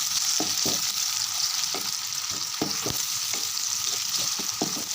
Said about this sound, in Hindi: और इसको अच्छे से फ्राई कर लेंगे।